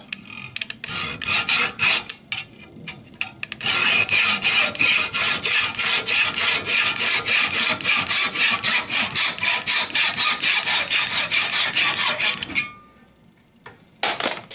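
A hand saw cutting through a metal fuel pipe for a Citroën Traction 11B, with a rapid, steady series of loud rasping strokes that stop abruptly, followed by a few faint clinks.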